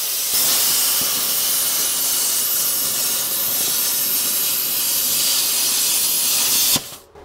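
ESAB Cutmaster 70+ heavy-duty plasma cutter slicing through aluminum, a loud steady hiss with a roaring airy rush that holds for nearly seven seconds, then cuts off abruptly, leaving a brief fading tail.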